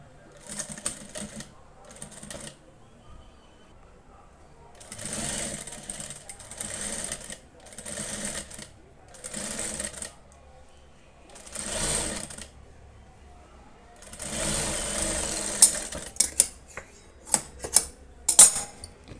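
A sewing machine stitches piping on a blouse in short, repeated bursts of rapid close whirring separated by pauses. Faint clicks and handling sounds come in toward the end.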